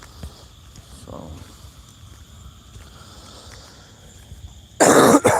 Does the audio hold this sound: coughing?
yes